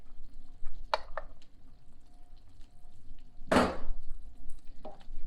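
Two bricks of shredded cheddar being stirred into sauce in a pot for apple mac and cheese: a few brief, close scraping and squelching strokes over a quiet background hum.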